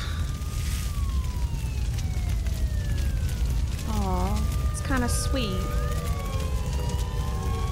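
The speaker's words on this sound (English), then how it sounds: "The sirens." A wavering electronic siren from the video game Silent Hill: Origins rises and falls in the background while a person talks over it, with low rumbling noise throughout.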